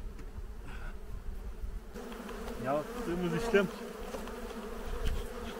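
Caucasian honeybees buzz steadily around an open hive during hive splitting at the end of the honey season, a dense close drone with a brief voice speaking over it.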